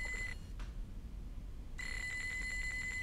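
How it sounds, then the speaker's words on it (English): A phone ringing inside a fishing video game, with a shrill electronic trill that sounds briefly, falls silent, then starts again and keeps ringing steadily. "Is that a phone call?"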